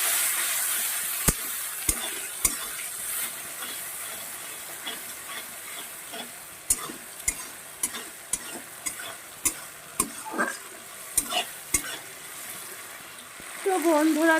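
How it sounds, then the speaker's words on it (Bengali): Garlic and ginger paste fries in oil in a pan, a steady sizzle broken by sharp clicks and taps of a spatula stirring against the metal, with faint voices in the background. "দেখো রসুন আর আদার পেস্টটা দিয়েও বেশ কিছুক্ষণ আমি কষিয়ে নিয়েছি তেলও ছেড়ে দিয়েছে"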